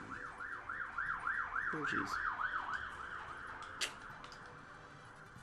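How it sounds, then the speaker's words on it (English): A wailing siren rises and falls rapidly in the distance, with a person briefly muttering over it and a short clank near the end. "Sirens always going off around here."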